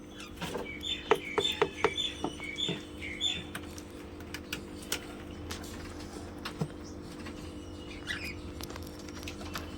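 Newly hatched bird chicks in a small cage give faint high chirps in short clusters, mixed with light patter and rustling close by.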